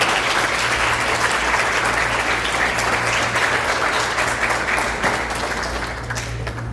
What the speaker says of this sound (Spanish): un fuerte aplauso al Magister Rodrigo.